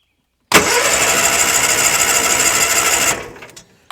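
Starter cranking the engine of a 1987 Argo Magnum amphibious ATV, a loud, close, continuous whirring churn for about two and a half seconds, then stopping without firing.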